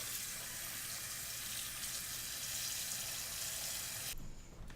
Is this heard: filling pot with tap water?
yes